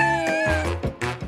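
Kittens meow in several drawn-out, tonal cries one after another, close and loud, with no talking over them.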